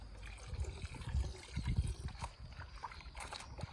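Hot water runs into a bucket for washing a Lancia Flavia sedan, an uneven splashing, gurgling pour heard close up for a few seconds with no talking.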